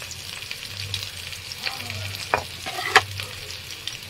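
Jackfruit pieces frying with potatoes and onions in a pan, a steady close sizzle with occasional sharp scrapes and clacks of a spatula stirring, no voices.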